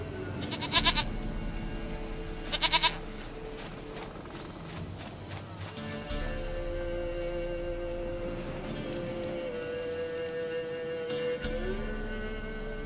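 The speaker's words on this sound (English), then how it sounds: "Goat of mine, dearest, sweetest goat." A goat in The Witcher 3 bleats in short nasal bursts twice early on, over a steady bed of game music and ambient drone that continues throughout.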